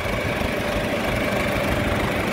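A 1952 International Super M tractor engine runs steadily up close, a continuous loud low rumble with an even idling throb and no talk over it.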